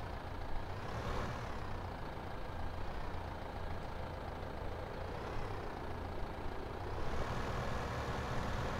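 A farm vehicle in Farming Simulator 15 reverses while maneuvering a double tipper trailer hookup, giving a steady low engine drone with faint periodic reversing tones and no talk.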